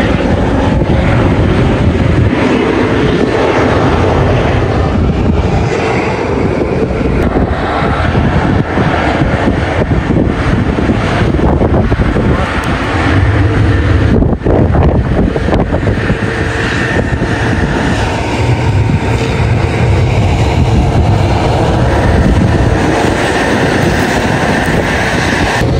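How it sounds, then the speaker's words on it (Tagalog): Strong wind gusting through snow, a loud, continuous broadband roar with surging swells that runs unbroken for the whole stretch. "Grabe ang lakas mga kabayan ng hangin ngayon tsaka yung snow."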